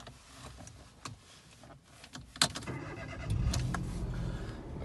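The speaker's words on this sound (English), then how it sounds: "The car coming on there" A 2012 Citroen C1 with a 1.0 engine is started with the key inside the cabin: a few faint clicks and a sharp crank, then the engine settles into a low, steady idle.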